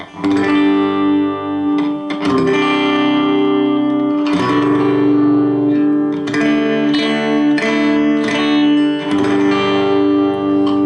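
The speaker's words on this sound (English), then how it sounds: "Now I'm playing it with channel 1 without any distortion." Clean electric guitar chords through a 12AX7 tube preamp on its clean channel ring out loud and warm, strummed in a relaxed rhythm with sustained notes and a touch of reverb, no distortion.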